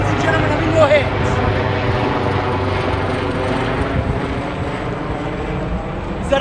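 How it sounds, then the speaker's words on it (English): A helicopter passes over an outdoor live property auction in Oakleigh, its rotor drone a loud, steady wash throughout, with voices underneath. "are you waving at the helicopter?"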